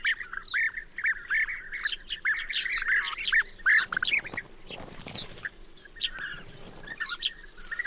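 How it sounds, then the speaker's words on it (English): A bustling colony of gregarious bee-eaters in the wild Balkans of Serbia, many birds trilling and chirping at once in dense overlapping calls, with a few harsher squawks and rustles near the middle, close and steady throughout. "Bee-eaters are gregarious birds."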